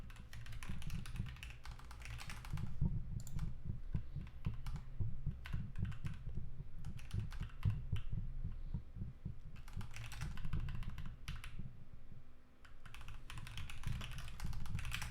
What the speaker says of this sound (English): I've forgotten how to type on a normal keyboard